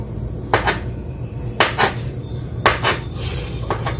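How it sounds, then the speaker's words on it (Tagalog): A knife slices through salted eggs on a cutting surface, giving four sharp, evenly spaced clicks about a second apart over a faint background hum, with no talking. "Hiwain natin itong itlog malat guys."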